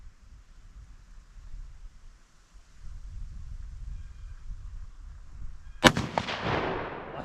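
A single sharp rifle shot from a Ruger American .204 fired at a squash target outdoors, loud and abrupt with a ringing decay, after a few seconds of quiet ambient noise.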